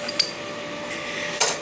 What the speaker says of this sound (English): clamp it down